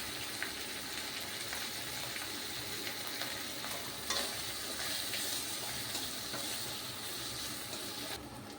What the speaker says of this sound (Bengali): এখন হালকা এই সাইডে দেখো শুটকিগুলিকে ভাজবো